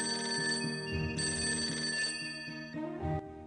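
A telephone bell rings loudly and steadily in repeated trilling bursts over a constant electronic drone, with no voices heard.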